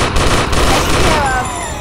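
Rapid gunfire in a shooter video game, a dense burst of loud automatic shots crackling continuously for a couple of seconds, close and prominent.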